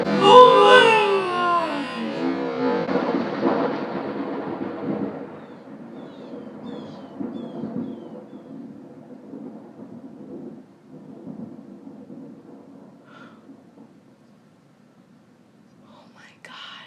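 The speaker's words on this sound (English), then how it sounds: "I am so scared of lightning and thunder, guys." Thunder in a thunderstorm: a loud rolling crack at the start fades into a long, low rumble that dies away over several seconds, with faint whispery voices beneath.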